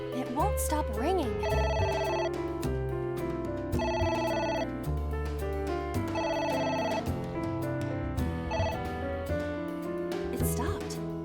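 Telephone in the video game AI: The Somnium Files rings over and over with a repeating electronic chime pattern, loud and persistent under dense game music before it stops.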